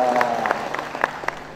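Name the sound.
audience applause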